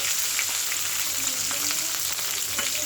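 Urad dal, mustard seeds, cumin, finely chopped onion and green chilli fry in hot oil, a steady close sizzle with a continuous crackling hiss and no talk.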